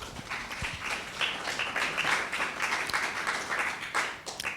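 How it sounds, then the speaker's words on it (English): An audience at a candidate forum claps steadily for several seconds, a dense, even patter of many hands at moderate loudness with no speech over it. "please hold your applause after the questions"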